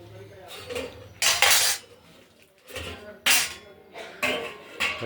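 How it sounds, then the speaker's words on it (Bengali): Several loud metallic clanks as a lid is set on a pot of simmering pabda fish curry with potato and tomato, in separate bursts with quieter rattling between them. "এবার ঢেকে দেবো"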